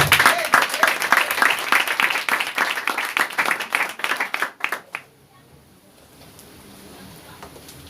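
A church congregation claps loudly and briskly for about five seconds, the applause cutting off abruptly and leaving quiet room tone.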